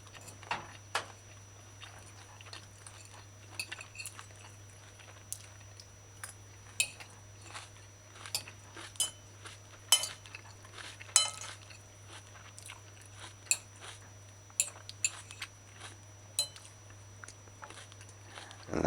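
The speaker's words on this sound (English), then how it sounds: "You realize that you're crunching a peppercorn" Crunchy bites and chewing of mala chicken with peppercorns come as sharp, close crackles at irregular intervals over a steady low hum, with no talking.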